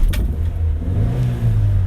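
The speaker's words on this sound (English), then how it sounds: "let's start the car, which is one of my favourite bits of the video" A 1970s Morris Marina MK1 engine settles into a steady low idle after starting, with a deep continuous rumble and slight rises in pitch, close and alone.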